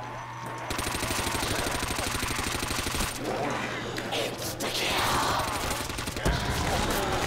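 Rapid automatic MP5 fire in Call of Duty: World at War custom zombies rattles in sustained bursts for several seconds. A low steady hum runs underneath, and a voice is faintly present under the shots.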